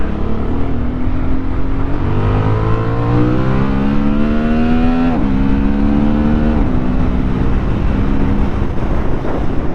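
A Honda CB750 Hornet motorcycle engine picking up throttle while riding: a loud, steady engine note that climbs in pitch, dips briefly, then rises again, with wind rushing over the microphone throughout.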